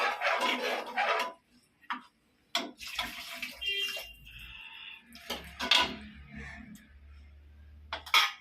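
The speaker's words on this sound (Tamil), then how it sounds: "இந்த தண்ணி ஊற்றினப்பா, கொஞ்சம் தண்ணி ஊற்றிடலாம்." Water is poured into a pot of mutton curry in a home kitchen, short splashing gushes between pauses, with people talking over the pouring.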